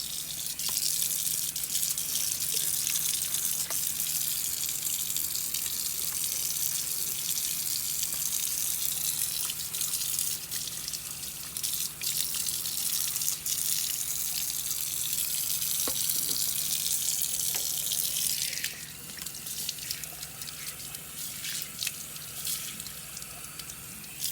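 Tap water runs steadily into a sink, rinsing the side scrubbed with Comet cleanser, a continuous close splashing rush that changes character near the end as the flow shifts, with no talking.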